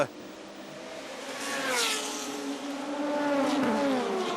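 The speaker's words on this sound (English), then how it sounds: "passing moves on the GT300s as they weave their way through the traffic" Super GT GT300 race cars circle the Sepang circuit, engines rising and falling in pitch at a moderate distance as several cars sweep past in succession.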